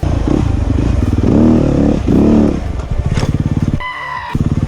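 A dirt bike engine revs hard and close, rising and falling in pitch through several throttle bursts with a rattling mechanical edge, loud and alone.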